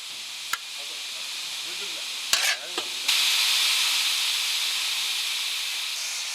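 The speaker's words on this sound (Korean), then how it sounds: "밥하는 기계에서도 김이 뿜어져 나오기 시작한다." Steam hissing from a large rice-cooking machine in a military mass kitchen: a few sharp knocks and clatters, then a loud, steady hiss that takes over and runs unbroken to the end.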